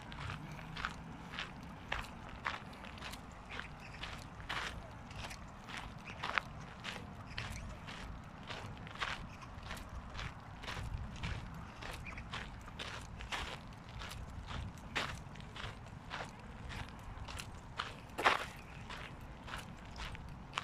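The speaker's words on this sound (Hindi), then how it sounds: "आपको आवाज़ आ रही होगी मुझे मेरे वॉक करने की, इसलिए कि हम रेतीली ज़मीन पे चल रहे हैं" Steady crunching footsteps on gritty, sandy ground in Häggvik, Sollentuna, Sweden, close and fairly quiet, walking at an even pace with faint background noise.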